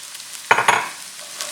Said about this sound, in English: So I'm just stir frying everything.